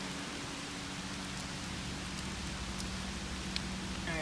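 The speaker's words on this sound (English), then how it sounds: "it's raining kind of hard" Heavy rain pours down outdoors beside a parked 2018 Audi Q7, a steady dense hiss of drops with scattered sharper patters on nearby surfaces, continuous and unbroken with no voices.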